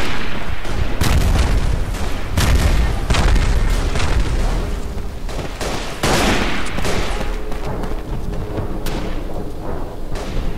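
Mortar and artillery blasts in the World War I shooter Verdun, a dense barrage of booms and sharp cracks mixed with rattling gunfire, loud and chaotic throughout with no talk.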